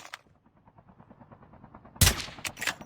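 Gunfire in the mobile battle royale game Call of Duty Mobile: a faint rapid patter of distant shots for two seconds, then a loud close burst of several heavy shots with trailing echoes, no talk.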